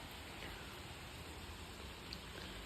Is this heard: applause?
no